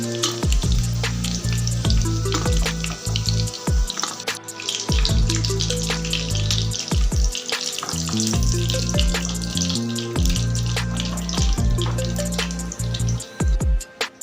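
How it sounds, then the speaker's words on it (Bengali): Chicken pieces for Bengali-style garlic chicken frying in hot oil, a steady loud sizzle with crackling pops and occasional clinks of a utensil, continuous throughout with no voices. "চিকেনগুলো ফ্রাই হয়ে গেছে"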